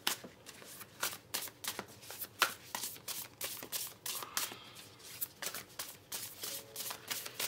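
Tarot cards shuffled by hand in a steady run of crisp riffling and slapping bursts, close and fairly quiet, with no voices.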